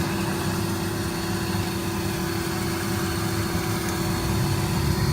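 Turboprop engines of a Beechcraft King Air idling while taxiing, a steady loud droning hum with a constant high whine, continuous and unchanging throughout, no voices.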